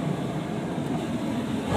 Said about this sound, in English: Exhaust sounds really nice.